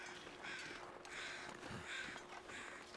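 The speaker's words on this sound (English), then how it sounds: "I hear crows, so I'm thinking feathers." Crows cawing in the survival video game The Long Dark, three or four harsh calls at steady intervals, faint and distant over a quiet wind background.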